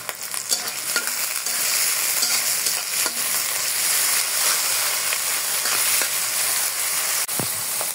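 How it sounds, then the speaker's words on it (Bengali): Onions sputter and hiss as they stir-fry in a pan for a spinach dish, a dense, continuous close sizzle with a few spatula scrapes and clicks, with nobody speaking. "পেঁয়াজ ভাজা হয়ে গেছে, আমি পালং শাকগুলো দিয়ে দেব।"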